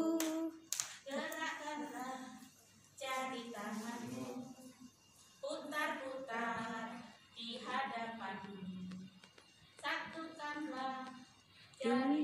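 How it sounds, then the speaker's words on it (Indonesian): A group claps hands in rhythm during a teachers' training session. The claps are fairly quiet and sparse and keep time with voices singing a chant-like song. "Tepuk-tepuk tangan kirimu. Tepuk-tepuk sampai ke bahu."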